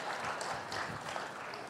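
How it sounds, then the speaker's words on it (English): Brief, steady clapping from an audience at a TED Talks India session, a short burst of applause at moderate distance with no voices standing out. "just made them clap"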